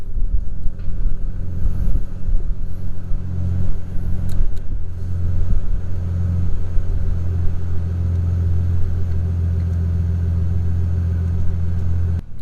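A Nissan Stagea RS Four S wagon idles just after starting, a steady, close, low engine rumble holding evenly for over ten seconds with slight fluctuations.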